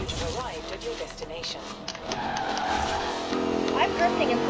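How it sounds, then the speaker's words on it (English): Car drifting with tires squealing in the racing game Forza Horizon 4, a rear-wheel-drive car held in third gear with the e-brake; engine roar and tire screech run steadily throughout, with talk over the top. "I'm drifting in third."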